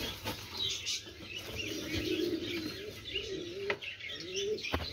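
A pair of powder silver lavender pigeons coo softly and repeatedly nearby, with a few faint chirps and brief flutters of wings against a quiet background.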